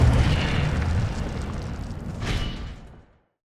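An Incendio fire spell in Hogwarts Legacy bursts with a loud whooshing blast, then a second flaring surge before fading quickly into silence.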